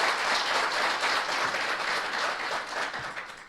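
Audience applause after a song performed at an Overseas Pakistanis Global Foundation event, a dense, continuous roar of many hands clapping throughout, loud and sustained without speech.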